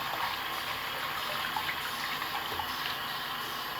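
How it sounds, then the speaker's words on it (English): Lukewarm tap water running from a faucet to rinse a vinyl record, a steady, fairly faint splashing hiss with no talking. "So now you're just going to rinse it off."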